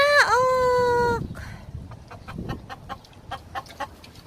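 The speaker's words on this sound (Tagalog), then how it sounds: "O, ang dami kong manok, oh." A flock of chickens under a moringa (malunggay) tree: a loud crowing call opens, then scattered clucks sound close by.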